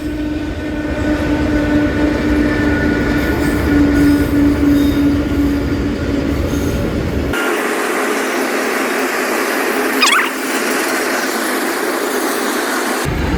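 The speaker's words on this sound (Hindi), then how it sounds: "ये मस्त ट्रेन जाती हुई." A long train rolls past near a lake view in South Goa on a morning, a steady loud rumble of wagons and wheels with a brief screech partway through, continuing without a break.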